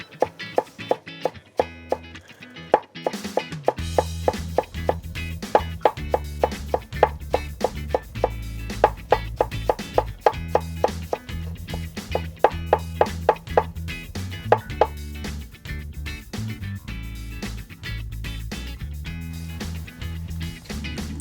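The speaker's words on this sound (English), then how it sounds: "I'm cutting green onion the Japanese way, using the knife in a slicing motion as opposed to a rocking motion." A kitchen knife slices green onion Japanese-style on a cutting board, pushed forward rather than rocked, making a steady run of crisp, close, evenly spaced taps that continues for about twenty seconds.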